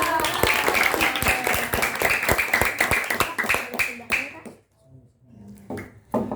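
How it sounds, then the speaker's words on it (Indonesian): A group of children and students in a classroom clap their hands in a quick burst of sharp, distinct claps that thin out and stop, followed by a few faint sounds and a short voice. "tepuk tangan dulu dong"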